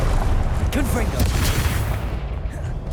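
Continuous rumbling blasts from the Confringo spell in Hogwarts Legacy, booming and crackling throughout a chaotic fight with overlapping game voices.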